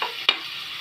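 Pork sizzling in a frying pan while cooking ginisang ampalaya, a soft steady hiss with a single brief stirring scrape near the middle of the clip, heard close by with no talk.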